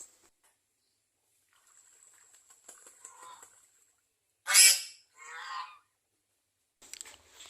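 Young geese give a couple of loud, close honks after quiet stretches of soft rustling, with further faint calls at the end.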